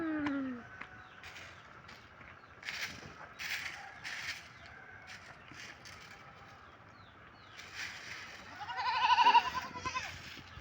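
A goat bleats in a rural provincial setting, giving several scattered calls at moderate distance. The loudest, nearest bleat comes toward the end, and a low outdoor background runs underneath.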